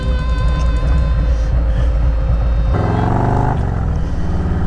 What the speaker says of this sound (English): Pretty road glide just rode by me